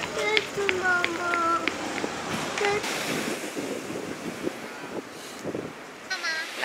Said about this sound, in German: Da ist das Meer!